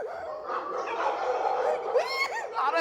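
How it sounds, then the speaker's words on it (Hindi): Several dogs bark, yip and whimper in a busy, overlapping run of calls, moderately close, with a faint voice in the background. "4-5 कुत्ते मेरे पीछे पड़ गए और मुझे काट लिया"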